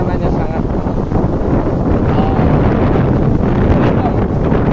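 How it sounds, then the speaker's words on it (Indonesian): A strong late-afternoon wind buffets the microphone in a village before sunset, a loud, steady rumbling roar heard while someone speaks over it. "kebetulan angin berhembus nih agak kencang"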